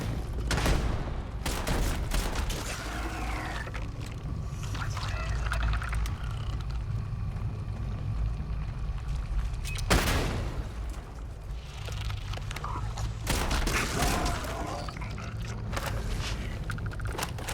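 A grenade blast and bursts of gunfire in the video game Starfield, with loud sharp booms near the start, around ten seconds and again near fourteen seconds over a low rumbling backdrop.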